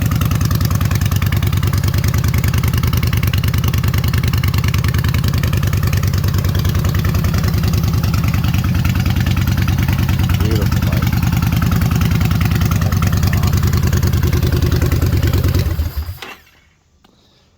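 A 2019 Yamaha Bolt motorcycle engine idles loud and close with a steady, throbbing low rumble for most of the clip, then cuts off abruptly into near silence at the end.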